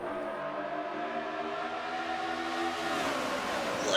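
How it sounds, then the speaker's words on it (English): NASCAR trucks at Watkins Glen roar down the front straight, a steady, loud engine drone with a rising whine that builds toward the end. "Listen to that roar."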